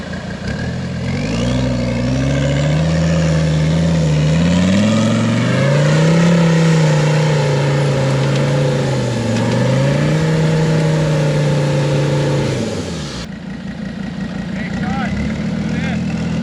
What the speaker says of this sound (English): So all we decided is that Sean needs to drive up there